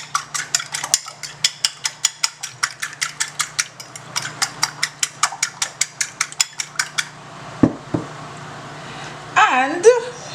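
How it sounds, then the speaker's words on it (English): Two eggs beaten in a bowl with a utensil, a fast steady run of clinking strokes for about seven seconds, then a couple of knocks and a short spoken remark. "I'm going to break my eggs in here, and I'm going to beat these eggs up."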